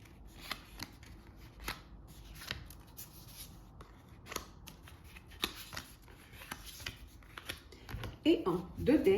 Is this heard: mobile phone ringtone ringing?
no